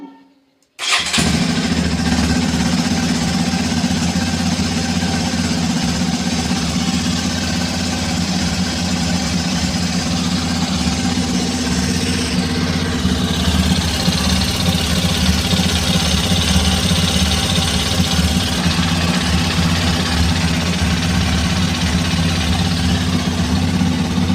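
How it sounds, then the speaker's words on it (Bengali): A Hero Xpulse 210 motorcycle engine starts after a moment of silence and then idles steadily and loudly up close, with a continuous low rumble and no talking. "ইঞ্জিন স্টার্ট করলাম।"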